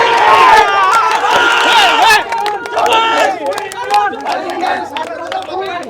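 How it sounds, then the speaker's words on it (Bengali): Dhaka University and Dhaka College students chant slogans together at a student protest, a loud, close crowd of voices shouting in rhythmic bursts amid general chatter. "ঢাকা বিশ্ববিদ্যালয়ের শিক্ষার্থীরা তারা মজা করে তাদের সঙ্গে একত্রে স্লোগান দিচ্ছেন"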